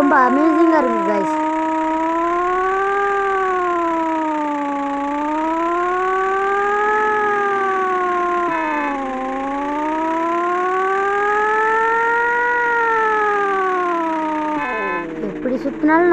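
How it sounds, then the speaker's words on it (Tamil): A wailing fire engine siren in a pixel-art GTA-style video game, rising and falling in long slow sweeps, loud and steady throughout with a brief break midway. "நம்ம இன்னைக்கு ஒரு ஃபயர் இன்ஜின் பார்ப்போம் வாங்க."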